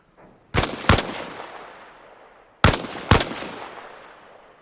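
Gunfire in the video game Arma Reforger: two pairs of sharp, loud shots about two seconds apart, each cracking hard and trailing off into a long echoing tail, with no talk over them.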